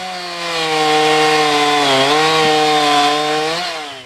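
A gasoline chainsaw runs loud and close in a steady whine, dipping briefly in pitch as it bites while cutting self-seeded growth and tree trunks on the slopes of a botanical garden.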